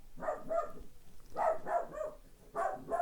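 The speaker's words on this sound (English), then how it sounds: "My dog is barking at the neighbor again." A dog barking at a neighbor, several short bursts in pairs and triples spread over a few seconds, moderately loud and slightly distant with no talk.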